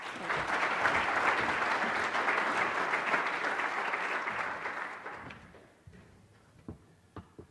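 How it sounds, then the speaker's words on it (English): A conference audience at the AgTech Innovation Summit 2017 applauds keynote speaker Bill Simmons, with loud sustained clapping for about five seconds that fades out, leaving a few scattered claps. "So let's give a round of applause for Bill Simmons."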